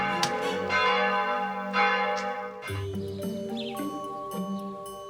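Village church bells ring out loudly with overlapping, sustained tones, the pattern of strikes shifting partway through as different bells sound.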